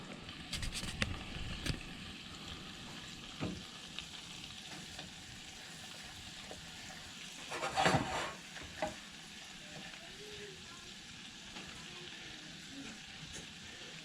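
Molasses and butter browning in a pan, a faint steady sizzle at low level with a few scattered clinks and one brief louder stir burst partway through, with no talking.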